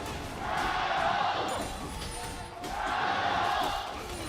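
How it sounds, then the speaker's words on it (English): Arena audience at the 2018 Asian Games League of Legends final between Korea and China, rising in two swells of cheering under a commentator's voice, fairly distant and muffled. "You can hear the audience cheering it because this is a very close game."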